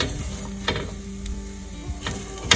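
A spoon stirring salted taro (arbi) pieces in a pan, soft scraping strokes with a few sharper knocks over a light sizzle, close and without talk.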